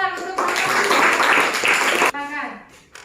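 A class applauds during a student-teacher practice lesson at a university in Malang: a short burst of clapping lasting under two seconds, with voices speaking just before and after it.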